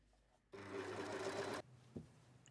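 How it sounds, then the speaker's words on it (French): A domestic sewing machine runs one steady burst of stitching, about one second long, sewing trouser fabric 1 cm from the edge, close and fairly quiet in a still room, followed by a small click. "Cousez à 1 cm du bord. Zigzaguez ou surjetez les valeurs de couture."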